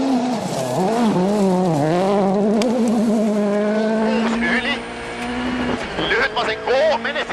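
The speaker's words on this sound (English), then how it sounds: "he's a bit wide, and that was a big impact at the rear of the car" Mikko Hirvonen's rally car on a gravel stage of the 2011 WRC Rally Finland, its engine loud and close with shifting revs and sliding, then a heavy impact against a tree at the rear, all under continuous excited commentary.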